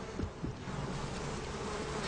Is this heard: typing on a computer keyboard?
no